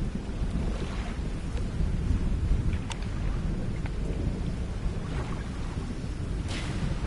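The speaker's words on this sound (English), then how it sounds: "Ooh, lightning!" A thunderstorm in the fishing game Dredge, with steady heavy rain and low, rolling thunder that swells and fades, plus a few sharp cracks. No one speaks.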